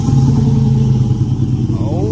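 A car engine fitted with Cherry Bomb mufflers and clamps rumbles loudly and steadily up close, a deep throaty exhaust drone holding through the whole stretch with a slight rise near the end.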